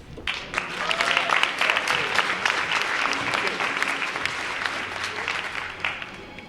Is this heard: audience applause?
yes